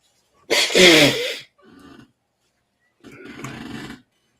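A single loud sneeze bursts out, followed by a short sniffle and then a softer breathy exhale a moment later.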